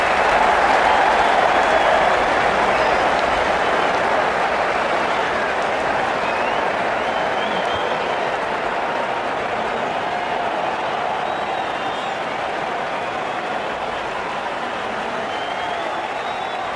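Stadium crowd applause and cheering in the cricket video game Cricket 19 during an IPL T10 match, a steady broad roar of clapping that stays loud throughout and eases slightly toward the end.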